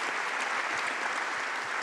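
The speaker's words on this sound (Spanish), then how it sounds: "La recibimos a Liliana con un fuerte aplauso." Audience at a public-sector regulatory quality and administrative simplification congress applauds steadily, a dense, even wash of clapping with no voices, lasting under two seconds.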